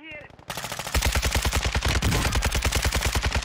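Rapid automatic gunfire from an RPK light machine gun in Warzone 2, a loud, continuous stream of closely spaced shots with heavy low thumps, rattling on without pause.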